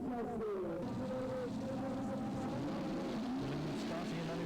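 A supercharged pulling tractor at the 1997 European Tractor Pulling event in Sottrum, Germany, drones with a loud, continuous engine roar whose pitch wavers and bends as it runs, under a commentator's voice.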